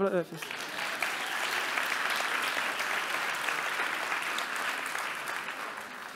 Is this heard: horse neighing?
no